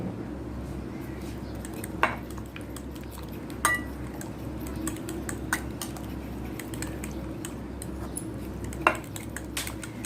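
A spoon stirs a chicken marinade with yogurt in a bowl, giving soft wet mixing sounds and occasional sharp clinks against the bowl, close and alone.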